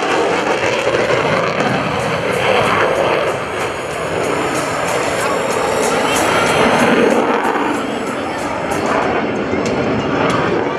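An F-16CJ Fighting Falcon jet performs at an air national guard open house airshow in Rhode Island. Its engine gives a loud, continuous roar and rumble that swells and eases, with an announcer speaking over the noise.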